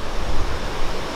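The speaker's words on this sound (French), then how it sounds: "En fait genre ça fait une cascade juste derrière mais on voit pas." Steady rushing water from a waterfall beside a river, a broad continuous roar heard close and fairly loud, with no voices over it.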